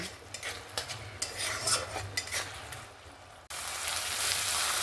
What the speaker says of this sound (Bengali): বাড়িয়ে দিয়ে সুন্দরভাবে মশলাটাকে কষাতে থাকবো